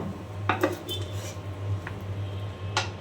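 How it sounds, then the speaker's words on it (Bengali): Dishes clatter faintly as hot rice is served onto a plate, with a few light clinks of cutlery and crockery over a low background hum. "এখন দিয়ে নিচ্ছি গরম গরম ভাত"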